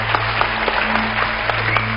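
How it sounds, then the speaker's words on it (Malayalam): Applause from a studio audience at a Malayalam television show, brisk even clapping across the whole short stretch with a steady hum beneath it. "എല്ലാവരും ഒന്ന് കൈയടിച്ച പ്ലീസ്"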